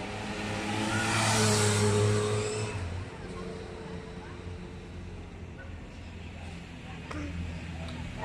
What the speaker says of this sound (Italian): Un'altra macchina della polizia.